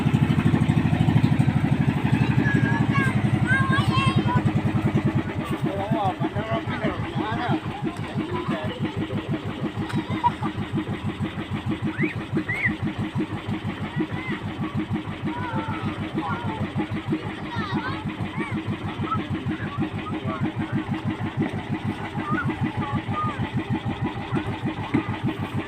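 A small boat engine cranks and catches, then settles into a steady, rapid chugging idle close by, with faint voices talking in the background.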